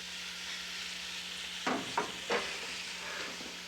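Butter melting in a pan for a roux sauce gives a soft, steady sizzle and hiss, close and fairly quiet, with a few brief scraping bursts partway through.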